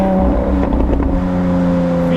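A Lamborghini Aventador SVJ V12 in sports mode, heard up close as a steady, loud engine drone with a short burst of revving partway through and no talking.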